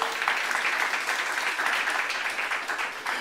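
A church congregation at a youth service claps together, a dense, continuous burst of many hands clapping at close range with no break.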